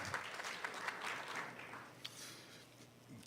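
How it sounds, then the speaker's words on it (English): An audience applauding for Ambassador Stapleton Roy, a faint, distant patter of clapping that swells and then thins over a few seconds. "Let's give a big round of applause for Ambassador Stape Roy."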